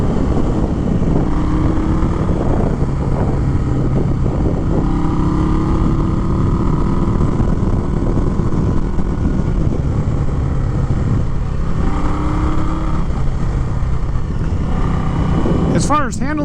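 The engine of a 2021 Indian Scout Bobber motorcycle drones loud and steady as it pulls strongly under way, with pitch shifts through the gears. Wind rush runs throughout, and a voice talks over the engine.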